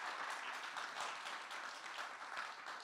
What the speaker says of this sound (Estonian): Anname aplausi Jeesusele selle eest.